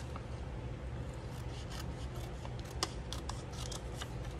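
Paper edges are trimmed with scissors in a quiet room, with faint soft snips and light rustling through a low background hiss.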